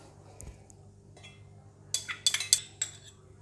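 Wonton filling of meat, salt, oyster sauce, onion oil and chopped spring onions mixed in a bowl, quiet at first with faint taps, then a quick burst of bright utensil clinks against the bowl, close and alone.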